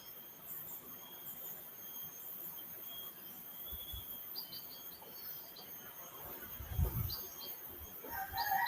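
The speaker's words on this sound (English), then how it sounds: "I hear a bird twittering outside, and I hear the roosters." A rooster crows faintly in the distance while small birds twitter outside over a steady hum of insects.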